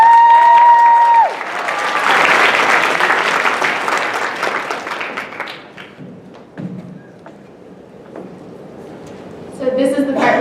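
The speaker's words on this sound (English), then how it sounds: "So let's give them a round of applause." Audience applause at a summit advocacy panel, a dense burst of clapping that swells quickly after a brief tone, then thins out and fades over several seconds before some thumps and movement.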